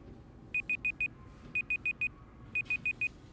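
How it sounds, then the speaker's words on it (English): A timer sounds three bursts of four quick high electronic beeps each, evenly spaced and clear over a quiet background. "And that is the timer."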